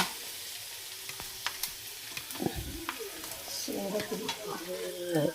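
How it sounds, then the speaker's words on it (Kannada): Oil sizzles steadily in a pan with light crackles and pops as mustard seeds, cumin and garlic fry, growing busier toward the end as more ingredients hit the hot fat. "ಒಂದು ಬಾಣಲೆಗೆ ಸಾಸಿವೆ ಜೀರಿಗೆ ಬೆಳ್ಳುಳ್ಳಿ"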